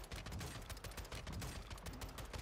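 Continuous rapid gunfire in Call of Duty Warzone 2.0, a dense, fairly quiet fusillade of overlapping automatic bursts with no clear gaps, heard without talk.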